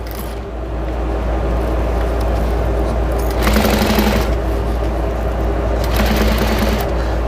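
A sewing machine stitches around the edge of a fabric chicken potholder, its steady close whirring hum running throughout and swelling in two brief faster bursts.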